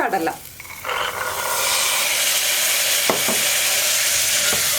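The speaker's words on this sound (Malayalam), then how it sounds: "ഉള്ളിയും സവോളയും ചേർത്ത് ആ പൊടികളിലേക്ക് ചേർത്ത് ഒന്ന് ഇളക്കുക" Shallots and onions stirred into spice powders frying for kadala curry in a pressure cooker, giving a steady broadband sizzle with a few brief scraping clinks of a spoon.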